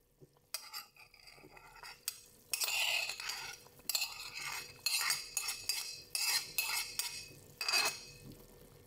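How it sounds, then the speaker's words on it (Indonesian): Vegetables with cabbage, spring onion, celery and tomato are stirred in a cooking pot, the utensil scraping and clinking against the metal in repeated rhythmic strokes over a faint sizzle, with no talking. "Diaduk kembali supaya tercampur rata."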